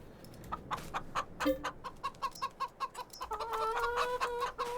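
Chickens cluck repeatedly in Farming Simulator 22, a steady run of short, near clucks that grows into denser, overlapping calls toward the end, with no talking.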